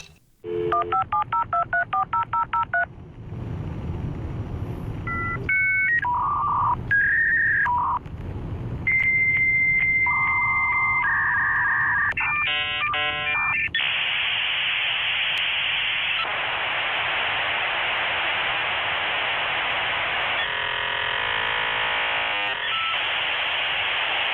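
Dial-up modem handshake: a rapid string of dialing tones and beeps, then harsh screeching and buzzing static bursts, loud and continuous.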